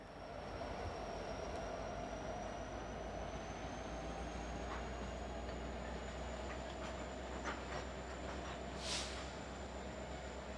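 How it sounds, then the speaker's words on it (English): A CPKC coal train moves slowly along a siding, a faint, distant steady rumble and rolling drone with a thin high wheel squeal and a few soft clanks. "the coal train easing its way towards the south end of the siding"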